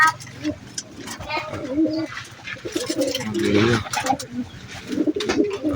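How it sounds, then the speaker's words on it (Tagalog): A racing pigeon coos in its loft just after returning home, soft repeated coos mixed with short chirps, heard close up under ongoing talk. "Ayan, yan ang bird natin. Bumalik na."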